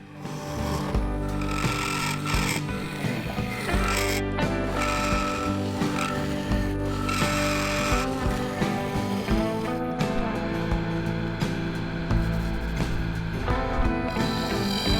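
A wood lathe spins a honey-pot workpiece while a bowl gouge cuts it, giving a dense, continuous scraping and chattering whir with brief pauses and changes in pitch as the tool shifts.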